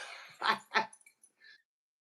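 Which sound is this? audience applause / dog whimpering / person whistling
dog whimpering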